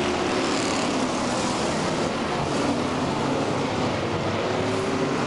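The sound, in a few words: race cars racing at Canaan speedway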